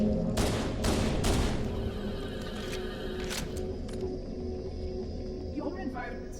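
Gunfire and explosions in the Halo CE video game, a dense rumbling burst of shots and blasts at the start fading into a steady battle din, with someone talking over it.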